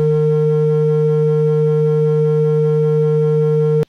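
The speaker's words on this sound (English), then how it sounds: "If we just take the raw, the sum before the nonlinearity, it sounds like this." Raw summed signal of an analog synthesizer circuit built from artificial neurons, taken before the nonlinearity: a steady, loud buzzing tone with stacked harmonics, held unchanged for about four seconds before cutting off abruptly.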